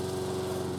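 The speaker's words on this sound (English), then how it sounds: "Anyway, he's got his lawnmower." A neighbour's petrol lawnmower runs steadily across the road, a close, even engine drone with a rapid pulsing rhythm and a steady hum, and no voices.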